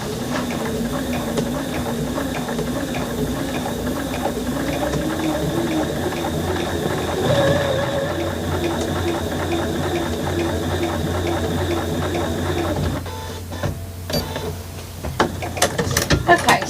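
A sewing machine hums steadily as it top stitches across the top of a fabric bag, a continuous close mechanical whir that stops near the end, giving way to scattered clicks and handling noises.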